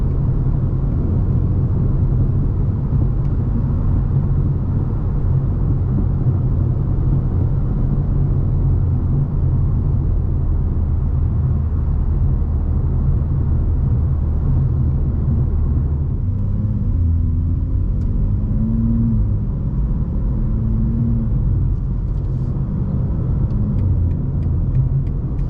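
A BMW G87 M2 cruising on the road in Las Vegas, its exhaust droning in a loud, steady low rumble heard from inside the car, with the pitch shifting briefly partway through as the revs change.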